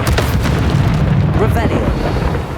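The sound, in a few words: explosion from Confringo spell in Hogwarts Legacy video game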